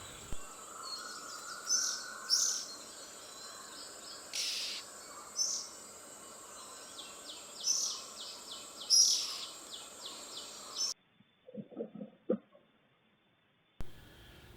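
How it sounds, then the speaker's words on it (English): A magpie robin fledgling calls for its parents from a high branch, giving repeated short, high chirps at irregular intervals over a constant insect drone, followed by a brief stretch of near silence. "The magpie robin fledgling goes and sits on a thigh branch after leaving the nest and calls its parents for help."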